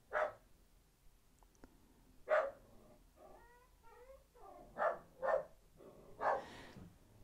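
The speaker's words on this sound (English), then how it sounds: "And he keeps on barking." A dog barks indoors several times at irregular intervals, each bark sharp and fairly distant, with quiet room tone between.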